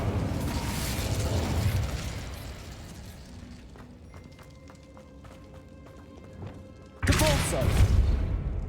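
An Incendio fire spell is cast in Hogwarts Legacy: a broad, rushing burst opens loud, fades into a quieter stretch with faint ticking and tonal game sounds, then a second forceful whooshing blast erupts abruptly near the end.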